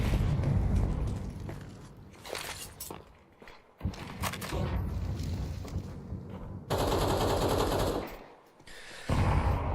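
A grenade detonates during a professional Counter-Strike 2 esports match, amid loud, dense in-game gunfire and bursts of shooting that fill the whole stretch with sharp, crackling impacts.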